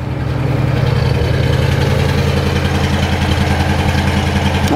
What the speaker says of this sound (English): I'm going to very quickly head out so we can hear it burbling in the back.